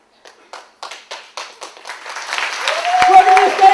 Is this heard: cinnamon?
no